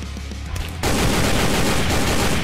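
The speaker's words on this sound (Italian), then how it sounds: "Non so chi sia a sparare." Video game gunfire bursts out loudly after a brief quieter lead-in, from what sounds like an AK-47, and continues as a dense, sustained rattle of shots. No speech is heard.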